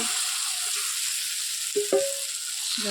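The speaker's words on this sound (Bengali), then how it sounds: "এইবার মাংসটা ঢেলে দেবো" Meat is poured into a frying paste of garlic, ginger, onion and chili powder, giving a continuous close sizzle with a few brief clinks and scrapes.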